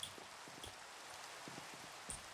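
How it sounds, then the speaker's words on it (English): Minecraft rain falling, a faint, even patter and hiss with soft scattered droplet ticks, quiet and steady throughout. "this rain is starting to bother me"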